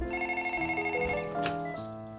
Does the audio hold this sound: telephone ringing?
yes